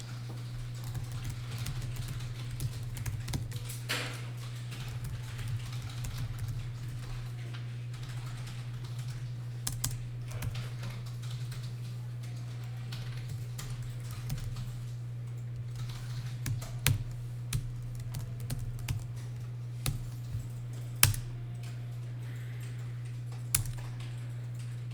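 Computer keyboard typing during data entry, irregular clusters of light keystrokes and occasional sharper taps over a steady low electrical hum, close and fairly quiet.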